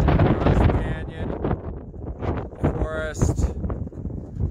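Gusty wind buffets the microphone at Lookout Rock, a high viewpoint above a canyon on the Pacific Crest Trail, loud rumbling bursts rising and falling with no pause.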